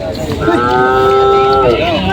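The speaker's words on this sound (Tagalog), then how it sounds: "yung mga kalabaw na galing Bicol. Kasalukuyan pinababa na dito." A water buffalo from Bicol lowing loudly while being unloaded at dawn at the Lucena livestock auction market in Quezon, one long sustained moo close by over low background yard noise.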